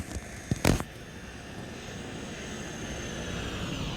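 Airbus A320-200 passing in a flyby in the X-Plane 10 flight simulator, a steady broadband engine and air roar that swells gently over the seconds, with a couple of brief sharp knocks early on.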